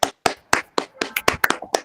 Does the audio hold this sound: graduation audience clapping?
yes